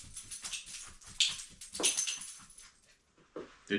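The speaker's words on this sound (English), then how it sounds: "The dog has an itch." A dog with an itch whimpers and yips in short, high broken bursts, close and fairly faint, with soft scuffling between the cries.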